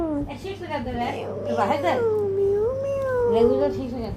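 A voice imitates a cat meowing in drawn-out, sing-song wails, loud and close, with playful tone as if addressing a baby.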